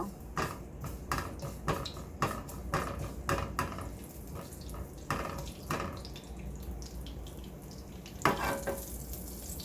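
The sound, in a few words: whole cumin seeds frying in hot olive oil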